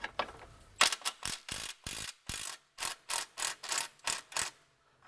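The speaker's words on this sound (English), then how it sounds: "So for these forward bolts, I'm just going to loosen them, allow the subframe to drop down on its own." Ratchet wrench loosening the forward subframe bolts on a 2008–2013 BMW E90 M3, a close run of about a dozen sharp clicking bursts in a steady back-and-forth rhythm, with no talking.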